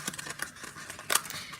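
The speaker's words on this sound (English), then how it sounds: "Just going to try and fold these slits so that they sit." Slits in a handmade paper Christmas card being folded into place: a few brief, crisp paper crinkles and rustles close up, with the sharpest burst near the end.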